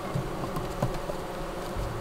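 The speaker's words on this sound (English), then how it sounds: "Well, first I shake the bees, then I brush the bees." USDA Russian honey bees buzz during an autumn honey harvest in Maine, a dense continuous hum of many insects close by, with faint handling noises mixed in.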